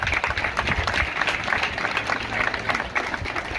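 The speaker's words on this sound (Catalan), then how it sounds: "un aplaudiment per a Guim" Audience applause for a young dolçaina student at a Sant Joan i Sant Pere festival performance by a dolçaina and tabal band, a steady patter of clapping from a modest crowd with murmured voices mixed in.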